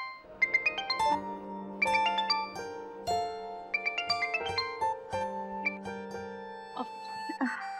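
A melodic electronic ringtone plays a repeating chime phrase several times, fairly loud, with no voices.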